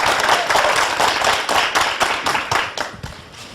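Studio applause breaks out on a radio-television program to honor a 17-track album, a dense patter of clapping hands that stays loud and steady before tapering slightly at the end.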